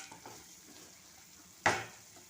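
Masala for an egg curry fries in a pan with a low, continuous sizzle and soft stirring, then a sudden sharp clatter of a utensil against the pan near the end, with no talking.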